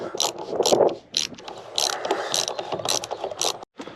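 A spanner's ratchet clicks in quick bursts while tightening rub rail bolts on a sailboat under restoration, close and loud, with short pauses between strokes.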